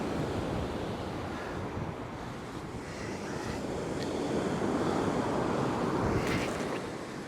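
Wind buffets a seashore fishing beach at Sutton on Sea, a steady broadband rush blended with rolling surf, loud and continuous without speech.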